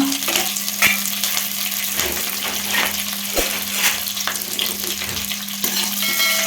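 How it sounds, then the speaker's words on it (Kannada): Kasuri methi, curry leaves and green chillies sizzle and crackle steadily in hot oil in a pan, with occasional stirring scrapes, close and continuous without talk. "ಕಸೂರಿ ಮೆಂತಿ, ಕರಿಬೇವು ಮತ್ತು ಹಸಿಮೆಣಸಿನ್ಕಾಯಿ ಇಷ್ಟು ಎಣ್ಣೆಯಲ್ಲೇ ಫ್ರೈ ಮಾಡ್ಕೊಳ್ಳೋಣ"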